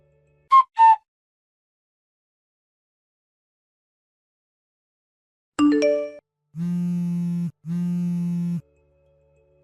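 Two brief high whistled notes give way, after a long silence, to a short descending chime and two sustained buzzing rings of an incoming call on a phone.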